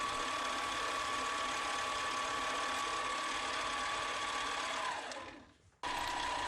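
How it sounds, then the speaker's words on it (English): A ring for a shamrock design spins against 220 grit sandpaper, giving a steady, close whirring and grinding drone with a faint tonal whine that fades briefly near the end before resuming, with no voices. "I switch over to 220 grit sandpaper"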